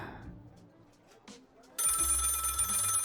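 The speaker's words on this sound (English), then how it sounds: "Oh, the phone's ringing." A telephone in the video game Lil' Guardsman starts ringing partway through, with a steady, bright electronic trill that follows quieter game sounds.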